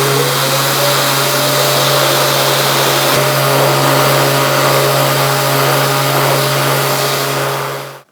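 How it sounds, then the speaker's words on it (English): A steady, loud whine from a Festool ETS EC 150 orbital sander with a constant motor hum, sanding a wooden tray continuously before cutting off abruptly at the end. "a 150mm diameter sander on something as delicate and fine as this"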